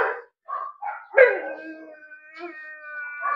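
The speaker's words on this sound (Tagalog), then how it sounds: "Galit na galit yung aso. May nakita kasing aso." An agitated dog at a house snarls and yelps, then lets out a drawn-out howling bark, fairly close and moderately loud, with short gaps between sounds.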